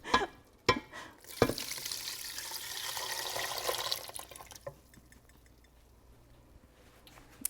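A quart of beef bone broth pours into a soup pot for bacon cheeseburger soup, a few sharp clinks leading into about three seconds of steady splashing liquid that tapers to a quiet trickle.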